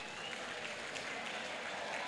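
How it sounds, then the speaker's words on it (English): Audience at a knowledge and talent summit applauding themselves, a steady, even, moderately faint wash of crowd clapping throughout. "Give a big applause to yourself."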